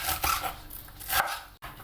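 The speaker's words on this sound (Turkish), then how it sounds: "Bunun için 6-7 adet taze soğanımı güzelce diliyorum." A knife chops fresh green onions on a cutting board, with several quick uneven bursts of close, crisp blade strikes and brief pauses between them.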